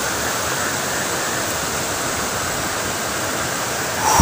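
A river flowing at night, a constant broadband rush of water heard steadily and fairly close throughout, with no voices.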